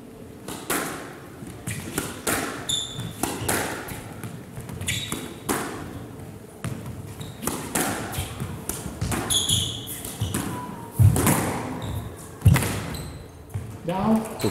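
A squash rally at the GFS Karachi Open Squash Championship 2022 between Karim and Asim Khan, with sharp repeated ball strikes and thuds against the glass wall and court under steady commentary and crowd noise.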